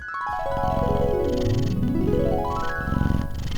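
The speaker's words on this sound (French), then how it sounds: "Mais il y a un son que je préfère, c'est le ronronnement." A cat purrs steadily and close by, a continuous rumbling throb under smooth rising and falling tones.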